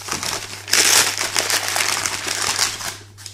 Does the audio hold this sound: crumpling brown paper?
yes